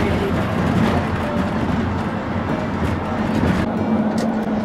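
A car drives west along the flat lagoon country with its ditches toward Verona, heard from inside as a steady, loud roar of road and engine noise without a break.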